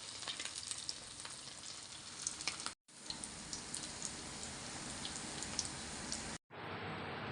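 Pork lumpiang Shanghai frying in a pan with a steady, dense sizzle and crackle throughout, close and continuous, with two brief gaps in the sound.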